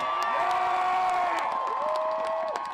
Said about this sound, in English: An enthusiastic crowd listens as Teamsters President Sean O'Brien speaks to hundreds of his members